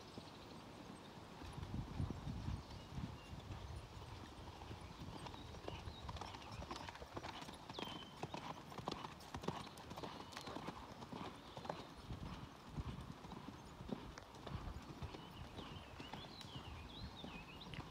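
A horse canters in a pleasure riding class, a steady three-beat clip-clop of hooves heard from a distance under faint background noise.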